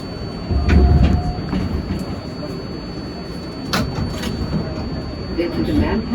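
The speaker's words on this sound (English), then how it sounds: "This is a Manhattan-bound 7 local train." Manhattan-bound New York subway 7 local train with R188 cars running between stations, a loud, continuous rumble with rhythmic rail clatter and occasional sharp clicks, with an announcement voice faintly over it.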